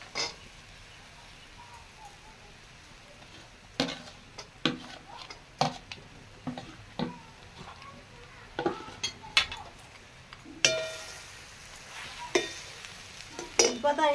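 Fried cashews and raisins stirred into puffed rice in a pan, giving a run of sharp scraping and clinking spatula strokes over a faint dry rustle, close and unhurried, with no talking.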